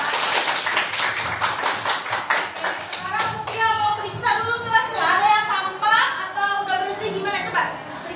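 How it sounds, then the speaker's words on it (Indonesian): Young children in a classroom clap their hands together in a brisk, slightly uneven burst for the first few seconds, then the clapping gives way to chatter and a teacher's voice. "Tepuk tangan dulu buat anak kita"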